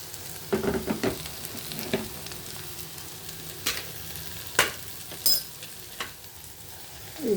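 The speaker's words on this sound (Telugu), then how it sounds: "ఉప్పు, కారం, పసుపు వేసేసాము. ఇదిగో ఇలా కలుపుకోవడమే" Ivy gourd (dondakaya) fry being stirred in a pan with salt, chili powder and turmeric, giving a soft continuous sizzle with scattered scraping stirs of the spoon against the pan, fairly quiet and close, no talking.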